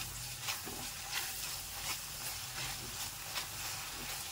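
Wood apple chutney sizzles steadily in a pan as it is stirred, with soft periodic scraping strokes over a continuous hiss, close and moderately quiet, no voices.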